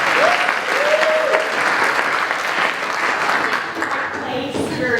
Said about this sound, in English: let's give a nice big round of applause for Lucy.